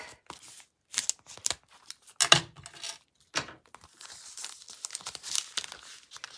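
Packaging around a set of punch-out shapes with gold edging is torn open by hand, giving sharp crinkling and ripping bursts that come in short, irregular bursts with quiet gaps between them and one louder rip partway through.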